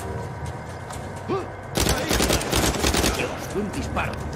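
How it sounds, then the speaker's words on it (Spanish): Rapid burst of in-game gunfire from the video game Uncharted 4, a dense run of loud shots following a quieter stretch with brief sounds, firing continuing steadily to the end. "Un disparo."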